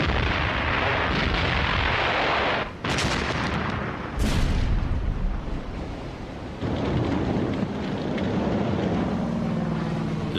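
A U-boat deck gun fires on ships at sea, heavy booming blasts rolling over a dense, roaring wash of noise, with two sharp louder reports standing out midway.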